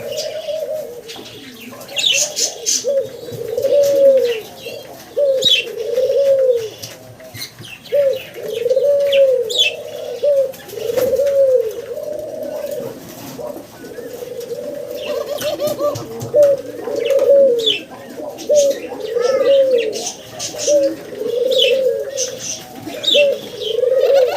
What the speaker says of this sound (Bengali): জোড়া ঘুঘু পাখি আমরা দেখতেছি